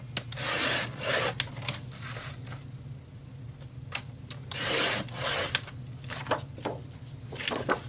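Saffron cardstock is sliced with a cardmaking cutting guide: repeated rasping, rubbing strokes come in bursts, near and fairly crisp, with quieter handling and sliding sounds in between.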